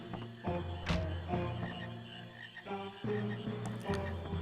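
Frogs croak repeatedly in Qu's Marsh, a swamp area of the Final Fantasy IX video game, with steady rhythmic croaks over game music and no speech.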